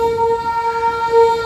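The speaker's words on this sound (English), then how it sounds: "That's our train pulling in." A train pulling into a station on the southernmost railway in Argentina, a steady drawn-out whine or brake squeal with a low rumble underneath, continuous and fairly close.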